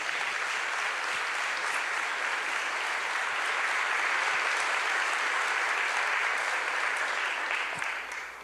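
A large crowd applauds steadily, a dense wash of clapping that holds strong throughout and tapers slightly at the very end.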